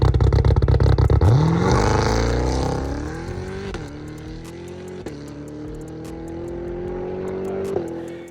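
A Cadillac CT5-V Blackwing launches hard at an airfield. Its engine roars loudly and climbs steadily in pitch through several sharp gear shifts as the car accelerates away.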